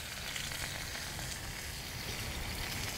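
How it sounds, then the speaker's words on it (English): Ribeye caps searing on cast iron over a charcoal grill give off a continuous, dense sizzle and crackle, steady and close throughout with no voices. "these got a beautiful sear going"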